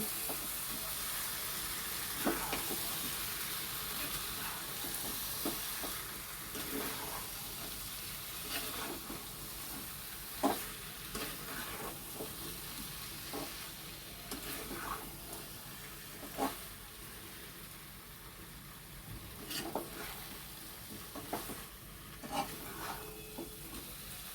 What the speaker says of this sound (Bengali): ওটা এর সঙ্গে ভালো করে নেড়ে মিশিয়ে দিচ্ছি